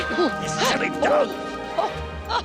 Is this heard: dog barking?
yes